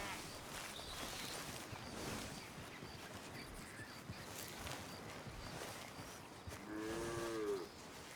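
Cattle in Red Dead Redemption 2 give a low drawn-out moo near the end, over a constant outdoor ambience of hooves and shuffling herd noise.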